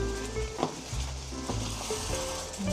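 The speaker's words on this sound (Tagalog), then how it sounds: "haluin lang natin siya once in a while para hindi siya manikit" Chicken sizzles softly in a covered pan over low heat, with a steady low fry and occasional scrapes and clinks as it is stirred; no one talks.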